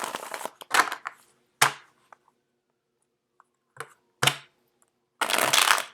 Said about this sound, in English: Let me get the cards shuffled out